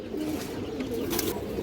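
Green-necked pigeons coo softly, a short, low murmuring call, faint and near, with no voices.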